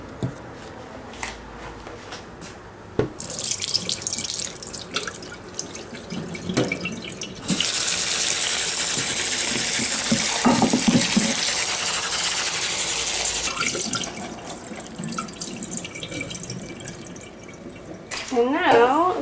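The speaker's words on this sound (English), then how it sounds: "now that these are done soaking, I'll just dump out this water and rinse them off." Water runs from a kitchen faucet into a sink as strawberries are rinsed after soaking, with a loud, steady gush that swells and changes tone as the flow hits the fruit and basin, plus brief clatters of handling.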